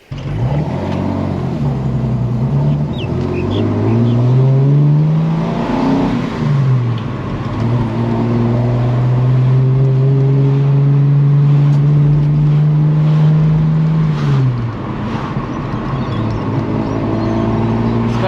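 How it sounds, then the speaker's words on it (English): A Valiant Charger E49 engine revs and holds a steady drone with a throaty intake roar from Weber carburetors sucking in air, rising and falling in pitch, loud and close, with no talking. "You can hear those Webers sucking in the air."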